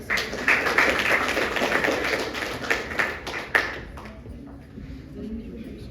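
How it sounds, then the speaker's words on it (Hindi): An audience claps at a poetry recital, a burst of many hands that is loud at first and then thins out and fades, with a voice speaking over and after it. "एक बार जोरदार ताली बजा सकते।"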